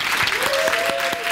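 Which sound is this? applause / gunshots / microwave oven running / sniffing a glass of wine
applause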